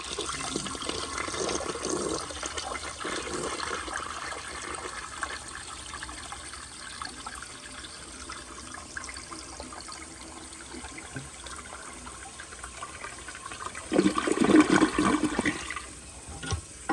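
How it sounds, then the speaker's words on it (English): A 1970 American Standard Cadet bedpan-lug toilet flushes quietly after its tank has refilled, a steady wash of draining water that swells near the end with gurgling and trickling as the bowl empties. "This toilet actually has a very quiet flush, and the flapper actually got stuck open that time, so it drained the entire tank."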